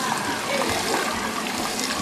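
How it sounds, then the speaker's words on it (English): Hot tap water running at full force over rice being rinsed, a dense continuous splashing and gushing that fills the whole stretch close up, with no pauses. "now I'm going to put this water on as high as possible in terms of temperature"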